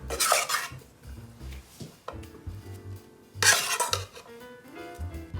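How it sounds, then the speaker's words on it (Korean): Mashed rice is stirred into a bowl of flour and egg batter, with utensils clinking and scraping against the bowl in uneven bursts and softer rubbing between them. "이제 이 으깨놨던 밥을 섞어줍니다."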